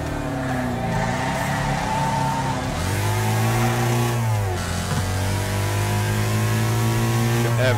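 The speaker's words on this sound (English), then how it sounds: "You hear me on the rev limiter right there" A car engine in the demolition racing game Wreckfest, loud and close, revving hard and repeatedly bouncing off the rev limiter in a sustained, stuttering drone with pitch dips between pulls.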